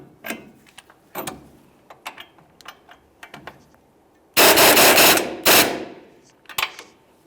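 A ratchet works on the ball joint stud nut of a 1999-2006 Chevrolet Silverado's front upper control arm, giving quick runs of clicks spread across the clip, with two louder, longer bursts in the middle, close and without talk.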